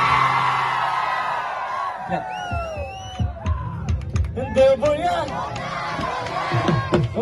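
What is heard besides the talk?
concert audience shouting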